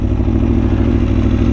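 A Ducati Tuono motorcycle engine runs loud and close, a steady throbbing idle with mechanical clatter and no voices over it.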